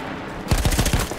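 Machine gun fire in the Battlefield 1 video game, with a short burst of four or five heavy, rapid shots rising out of low ambient rumble partway through, loud and close.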